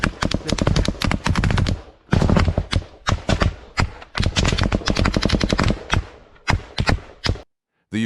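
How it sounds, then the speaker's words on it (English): Sustained heavy automatic gunfire from Russian forces in close combat, dense rapid bursts of loud cracking shots with brief gaps, continuing almost without pause. "Non-stop Russian fire pins the Ukrainians down with no chance to shoot back."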